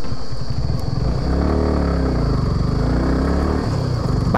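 A motorcycle engine runs steadily and loud throughout while riding along a forest road toward a hilltop temple, with a low rhythmic throb and engine clatter close by.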